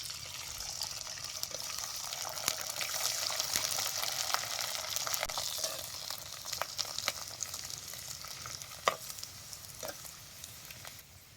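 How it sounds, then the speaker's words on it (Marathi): Sandge, sun-dried lentil dumplings, frying in hot oil in a village kitchen, a faint, steady, hissing sizzle with occasional soft crackles and a single sharp clink near the end. "तेल चांगलं कडले जे सांडगं सोडतो."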